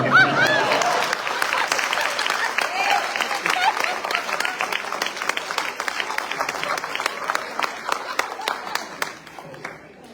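An audience claps in sustained applause at a Teacher's Day poetry gathering, starting strong and slowly thinning out over about ten seconds, with brief voices at the start.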